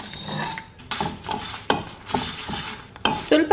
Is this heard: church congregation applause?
no